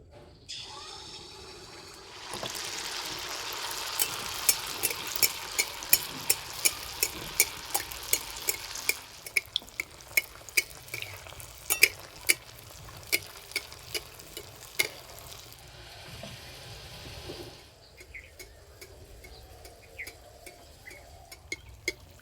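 Rice flour pitha batter frying in lightly warmed oil in a wok, a steady soft sizzle with repeated sharp clicks of a utensil, growing louder after a brief quiet start and dropping back near the end.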